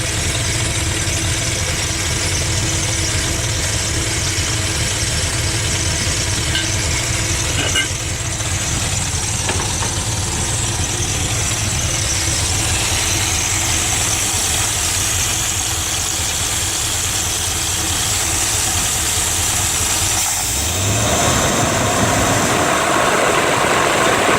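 An old Dodge car engine idling with the carburetor open gives a steady, loud, continuous rumble with slight roughness, holding even throughout before a brief change near the end.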